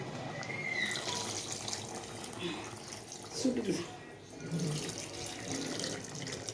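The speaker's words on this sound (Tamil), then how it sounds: "நீ புளி கரைச்ச தண்ணியே ஊற்றுவோம்." Tamarind water poured into a pot of simmering drumstick tamarind curry, a steady watery pour running under a voice talking throughout.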